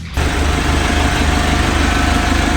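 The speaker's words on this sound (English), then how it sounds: "Okay, we got the engine started." A boat engine turns over and settles into a loud, steady idle with a low throbbing rumble close by.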